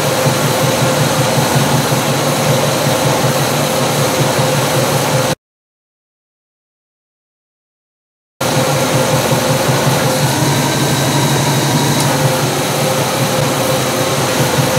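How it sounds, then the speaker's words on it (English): A 1973 Pontiac Trans Am engine idles with its air-conditioning compressor running, a loud, steady mechanical drone and whir that is interrupted by a gap of silence partway through. "We'll see if the compressor disengages at any point."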